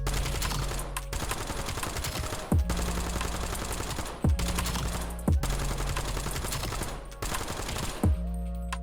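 The MK.78 light machine gun fires at targets in Black Ops 7, delivering loud, rapid sustained bursts. Several bursts are separated by brief pauses, with heavy booming low end throughout.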